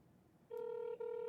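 A telephone call connects with a steady ringback tone, two long buzzing rings separated by a brief gap, loud and close after a quiet start.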